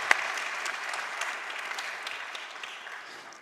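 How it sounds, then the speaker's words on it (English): Audience applause at the We're Smart Green Awards ceremony, a steady wash of many hands clapping at moderate level and slowly fading across the few seconds, with no talk over it. "an applause, ladies and gentlemen, for Pieter Jan Lind"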